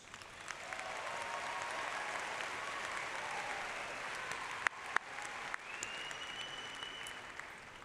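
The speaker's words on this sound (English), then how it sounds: "Again, a round of applause for all of these seniors." A large audience applauds graduating seniors at a 2019 high school graduation ceremony, steady and sustained for the whole stretch with a few sharper claps and whistles standing out near the end.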